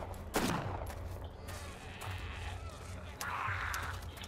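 Gunfire in the survival video game DayZ: a single sharp shot rings out early, followed by a busy, noisy background with scattered bursts and rumbling ambience.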